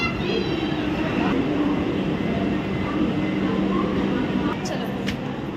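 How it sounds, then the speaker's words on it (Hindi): A Vande Bharat express train pulls into a platform with a loud, steady rumble and rolling hum that fills the whole stretch, while a voice talks over it. "चलो अपनी ट्रेन आ गई।"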